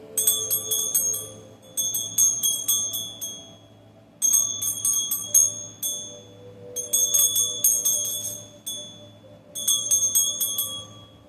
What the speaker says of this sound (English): Let me go ahead and ring this bell.